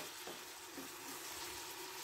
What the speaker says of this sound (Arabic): هنا البصل راهو تقلى لينا مع هذيك الثوم.